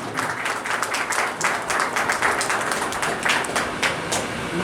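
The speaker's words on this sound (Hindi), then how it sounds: "लगातार तालियां बजती रहनी चाहिए" Sustained crowd applause at a ceremony honouring a police superintendent and investigation team in Jaynagar, dense overlapping claps rising and falling in waves, close and loud throughout.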